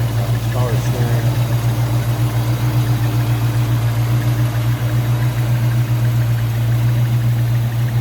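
A 1966 Ford Mustang coupe engine idles smoothly and steadily up close, a constant low, even hum with a faint mechanical vibration and no change in pace.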